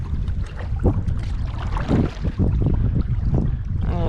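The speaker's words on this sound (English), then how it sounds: "I'm gonna paddle right between these islands, just because every time I'm in a motorboat, I'm out on the outside" Canoe paddling on a river between islands, with water splashing and dipping strokes under steady wind noise close to the microphone, continuous throughout.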